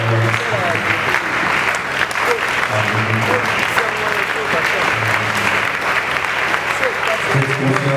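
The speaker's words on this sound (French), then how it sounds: "Est-ce qu'on peut continuer à acclamer la réponse?" A church congregation at a Sunday service claps in sustained, loud applause for the whole stretch, with voices and cheers mixed through the crowd.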